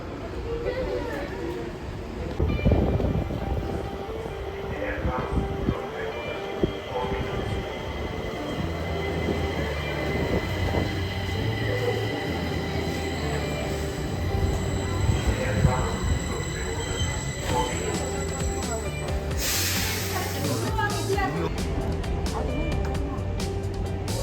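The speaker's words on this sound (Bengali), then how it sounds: "ট্রেন থেকে নেমে পড়েছি আর আমরা কিন্তু পৌঁছে গেছি স্টকহোম শহরের একদম শেষ স্টেশন" A metro train pulling into the final station of a Stockholm line, with rumbling wheels, rising squeals and clanks heard close and loud, and a few background voices mixed in.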